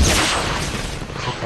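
Gunfire in the Fortnite video game, a dense burst of loud shots filling the short span with a booming, crackling texture, mixed with game ambience and possible voice chat.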